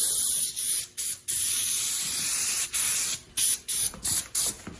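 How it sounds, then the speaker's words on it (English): Loud hissing spray bursts from spray painting the rear frame of a 1988 Chevy Scottsdale truck, one long continuous blast followed by several short repeated sprays, close up. "Spray this down, let her flash off the line."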